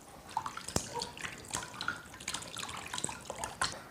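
Pieces of snakehead fish are rinsed by hand in clean water, giving soft, irregular splashes and sloshes close by with small drips, and no talking.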